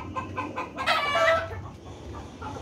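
Backyard chickens cluck nearby in a short burst of calls, one louder squawking phrase in the middle over a low outdoor background.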